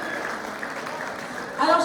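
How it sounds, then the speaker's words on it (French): Brief applause at a high school volleyball awards ceremony honoring provincial champions, a soft wash of clapping from the audience that swells slightly louder at the end. "Une bonne main d'applaudissement pour Ève Joly."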